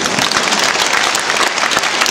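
Dense, loud applause from a circus audience at an anniversary show in the Krasnoyarsk Circus arena, continuous rapid clapping filling the whole moment.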